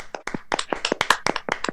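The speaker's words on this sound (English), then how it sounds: "turn on our microphones and make a huge applause across the Atlantic and the Mediterranean towards Crete" Online audience applause carried over open microphones during a video conference on contempt in ancient Greece, sounding as a few separate, uneven claps and taps from individual mics rather than a full crowd.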